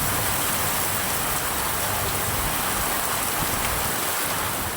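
Heavy rain pours steadily for over two hours across Krishnarayapuram and Kulithalai in Karur district, a dense, continuous hiss with no break and no voices.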